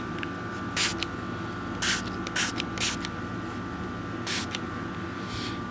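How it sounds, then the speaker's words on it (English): Cleaner is sprayed from an aerosol can into a firearm barrel in several short hissing bursts over a steady background hum, close by and fairly loud. "spray the inside of the barrel, spray the gun barrel, then spray the upper, the slide, and then do the lower."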